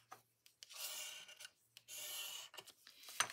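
Paper being folded over to form a stacking pocket on an index card project: a few dry rubbing, rasping swipes come in separate bursts, close and fairly soft, ending with a sharper crease, without any talking.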